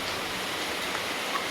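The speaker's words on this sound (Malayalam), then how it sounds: "നല്ല മഴ കേട്ടോ, നല്ല മഴയുണ്ട്." Steady rain falls as a soft, even hiss, faint and continuous with no voices.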